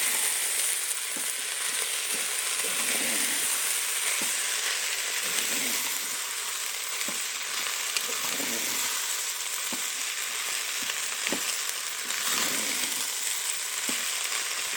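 Rice with red beans frying in a sizzling pan, a constant bright sizzle with regular scraping strokes of a spoon stirring through it, near and steady.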